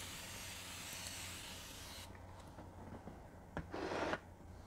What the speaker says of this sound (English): I'm just going to spray my face with some water